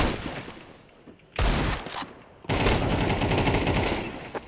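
Bursts of automatic gunfire from the Counter-Strike video game, a short volley followed by a pause and then a longer sustained stream of rapid shots, loud and close.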